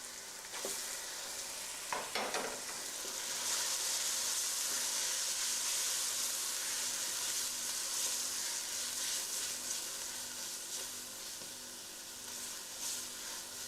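Tomatoes sizzle and fry steadily in a hot pan for chicken biryani, a loud continuous crackling hiss that swells after a brief stir at the start and holds alone without talk.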